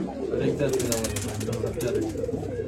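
Racing pigeons readied for a tournament coo in low, soft throaty rolls, steady and close, with a voice talking over them.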